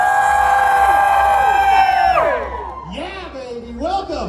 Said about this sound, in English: Can we scream loud enough that he hears us?